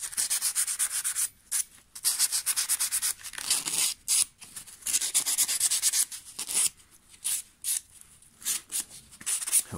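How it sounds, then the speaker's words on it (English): Sandpaper rubbed over a hedge trimmer blade to remove burrs, close scratchy strokes in quick rhythmic bursts with short pauses between runs. "you can just run a bit of sandpaper. Try and run it on the same angle."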